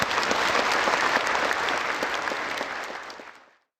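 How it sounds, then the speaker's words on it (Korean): An audience at a national prayer breakfast breaks into loud, sustained applause after a speech by the president, dense clapping filling the room for about three seconds before fading out quickly. "우리 다시 한번 뜨거운 박수를 드리겠습니다"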